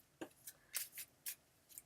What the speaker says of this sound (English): Okay, Yehochanan, I'm shuffling for you